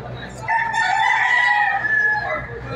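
A gamecock crows loudly and close by at a cockfighting weigh-in in San Juan. The single long, drawn-out cock-a-doodle-doo rises and falls over faint background noise.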